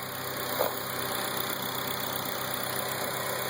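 A 2002 Acura RSX Type-S engine with an RBC intake manifold and Injen cold air intake idles smoothly and steadily at close range, a constant even hum with no voices.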